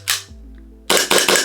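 A Vorsk Hi Capa 4.3 airsoft gas blowback pistol fires one sharp crack, then after a short pause three quick loud shots in a row, close and clear, with no voices.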